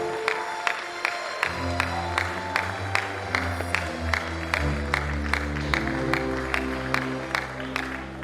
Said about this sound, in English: He deserves a standing ovation. Keep clapping, keep clapping, keep clapping.